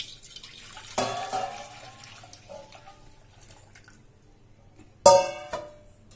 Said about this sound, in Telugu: ఈ వాటర్ని తీసి పక్కన పోసుకోవాలి.